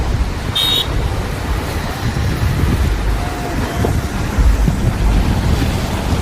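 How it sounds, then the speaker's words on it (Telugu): Stormy sea waves crash at Vizag beach during Cyclone Montha, a loud, continuous roar of surf blended with strong buffeting wind and rain. "మన ముందా తుఫాను సముద్రం చూడండి ఎలా ఉంది."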